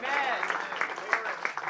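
Church congregation clapping in praise, a brief burst of mixed hand claps with a voice speaking over the top.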